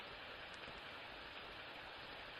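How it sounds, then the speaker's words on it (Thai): Drizzling rain makes a soft, even hiss throughout, faint and continuous, with no voices. "ฝนฝอย drizzling drizzling"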